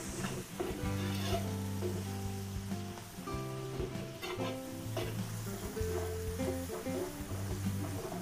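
Onions sizzling in a pan while being fried for a large batch of Filipino dishes, with a steady crackle running under loud music with sustained tones.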